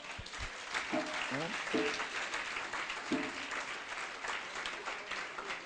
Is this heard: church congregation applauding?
yes